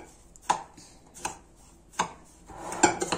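Cake batter with baking powder and vanilla, all dry ingredients, is stirred in a bowl, making four or five distinct knocking scrapes of the utensil against the bowl at an uneven, unhurried pace, close and alone.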